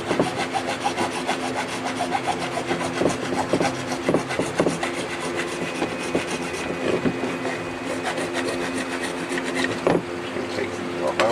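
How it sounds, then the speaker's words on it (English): A hacksaw fitted with a 10-inch, 32-teeth-per-inch blade saws steadily through material, giving close, continuous rasping strokes with a rough back-and-forth rhythm throughout. "One hacksaw. Looks like a 32 tooth blade."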